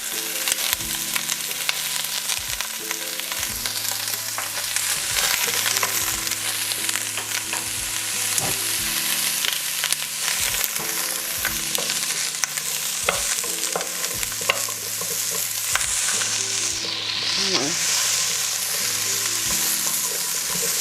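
Sweet potatoes fry in a pan with a constant crackling sizzle and occasional stirring scrapes, close and fairly loud, under continuous background music and no speech.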